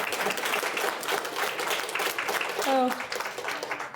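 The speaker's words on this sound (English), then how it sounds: "Let's give a round of applause for them." A business-forum audience applauds a panel of commercial real estate speakers in the Bay Area, a dense steady wash of clapping held for several seconds, with a brief tonal sound and voices mixed in near the end.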